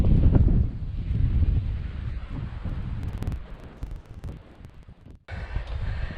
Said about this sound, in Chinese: 哇，这个起大风了，感觉要马上下雨了。